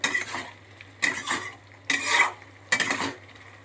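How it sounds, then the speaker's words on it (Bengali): A spoon scrapes through ash gourd pieces coated in spices such as Kashmiri chili powder in a pan, giving four distinct close stirring strokes with short pauses between them. "মশলাগুলো চাল কুমড়োর গায়ে ভালো করে মাখিয়ে দেবো নাড়াচাড়া করে।"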